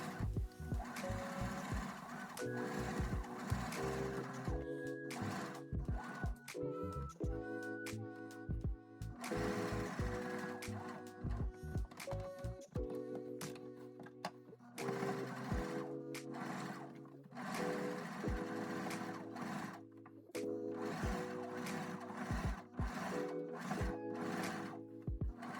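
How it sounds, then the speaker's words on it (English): A sewing machine top-stitches a pocket close to its edge in repeated bursts of rapid mechanical whirring, stopping and restarting every few seconds, close and clear with no talk. "put that pocket underneath your machine and sew along the edges that you pinned"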